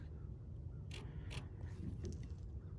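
A nylon Kore Essentials battle belt strap is cut between two holes, giving a couple of short, crisp snips close by against a quiet, steady background hum.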